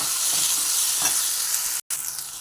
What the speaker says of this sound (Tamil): ஸோ இது வதங்கிட்டு இருக்கும்போது 2 குச்சிக்கு கருவேப்பிலை அதையும் சேர்த்துட்டு வதக்கி விட்டுடலாம்